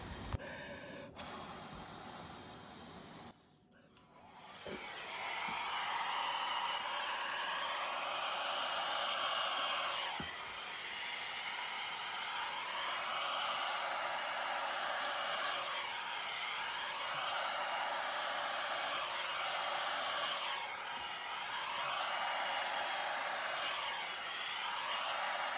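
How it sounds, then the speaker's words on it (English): A hair dryer blows over a ridge of poured acrylic paint on a lazy Susan. After a short stop-start at the beginning, it roars steadily and close at hand for over twenty seconds. "form a little ridge that I'm going to aim my hair dryer at in a second."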